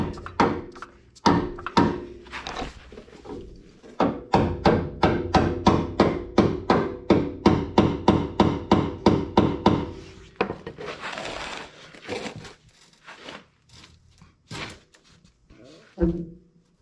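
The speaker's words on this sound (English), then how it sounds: "let's get the hammer in there" A small hammer knocks on the metal suspension of a Mercedes R129 in a fast run of sharp, evenly spaced taps, with slower single strikes before and after and a voice now and then.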